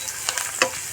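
Chopped garlic sizzling in a hot pan with a few stirring scrapes, close and moderately loud, with no voices.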